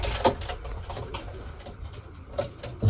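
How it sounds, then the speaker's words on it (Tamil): A small pigeon coos close by in soft repeated throaty calls over a low hum. "அது கொஞ்சம் சின்ன புறா நினைக்கிறேங்க, அதனால் பயக்குது"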